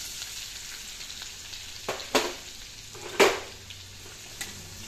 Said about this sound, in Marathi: आता इथे बघा, हे आपलं तेल गरम झालेलं आहे। याच्यामध्ये आपण लसूण टाकूया।